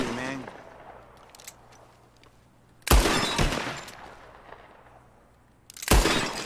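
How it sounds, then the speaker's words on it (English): Revolver shots aimed at bottles in Red Dead Redemption 2: two sharp, loud cracks several seconds apart, each followed by a brief decay, with faint speech earlier. "Whoever shoots more of these bottles wins. Just draw your gun and aim when you're ready, all right? Shoot!"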